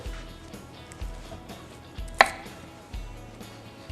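A knife chops glass noodles into short pieces on a cutting board in regular strikes, about one per second, with one sharper, louder knock partway through.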